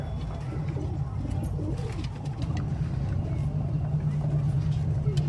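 A pair of Lalthra pigeons coo in low, repeated throaty pulses against constant background rumble, with a voice talking nearby.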